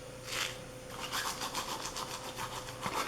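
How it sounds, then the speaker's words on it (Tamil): Fennel seeds are crushed between the palms, giving close, soft dry rustling and gritty rubbing in a loose run of short strokes. "லைட்டாக இப்படி தேய்ச்சி ஒரு லைட்டான ஒரு ரப் ஒன்று கொடுத்துட்டு போடுங்க."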